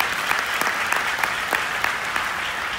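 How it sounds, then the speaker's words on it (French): A conference audience gives a steady, loud burst of applause, dense clapping with a few sharper claps throughout, no voices over it. "Bah, on les applaudit bien fort."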